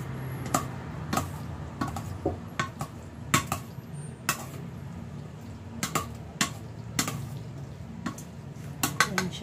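A spoon scrapes and clinks against a bowl while stirring creamy macaroni fruit salad, with irregular sharp taps and soft scraping over a low background hum.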